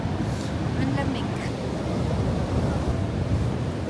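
Sea waves wash steadily onto Whitley Bay beach near Newcastle on a cold early-spring day, a continuous broadband roar with wind buffeting the microphone throughout.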